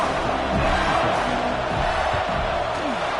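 Football stadium crowd at a Florida vs LSU game roaring and cheering after a touchdown, a loud continuous wash of massed voices with no break.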